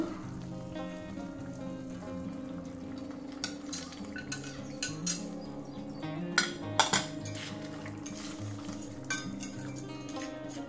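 Paneer going into a pan of masala, with a spoon clinking and scraping against the metal over a steady low hum. The scrapes are sharp and irregular, heard close, and no one talks.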